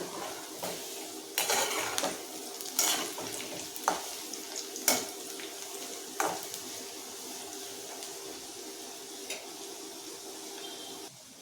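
Pakoda frying in a pan and being turned over, a soft, steady sizzle broken by sharp clinks and scrapes of a utensil against the metal every second or so, then settling into quiet frying.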